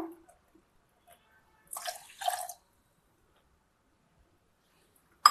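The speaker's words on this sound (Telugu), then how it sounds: "ఇందులో ఫస్ట్ ఒక 2 గ్లాసు పోసుకొని తర్వాత కావాలంటే పోసుకోవాలి. 2 గ్లాసు పోస్తున్నాను." Boiled milk poured from a glass into a pot for paramannam, a brief liquid splash in a quiet kitchen followed by a sharp clink at the very end.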